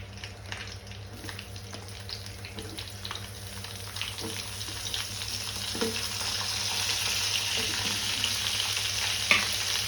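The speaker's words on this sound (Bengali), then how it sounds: "আলু ভেজে, ফুলকপি ভেজে তুলবো" Cauliflower florets and potato pieces fry in hot oil with a steady, close sizzle and occasional stirring scrapes, with no voices.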